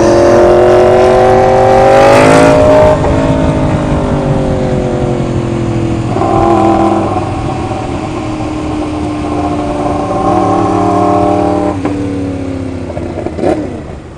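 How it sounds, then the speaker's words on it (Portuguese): A 2016 Yamaha R1 motorcycle fitted with a Sharow exhaust roars loudly and close, its engine revving up and settling in rising and falling pulls, with a sharp blip near the end. "Só escuta o ronco dela."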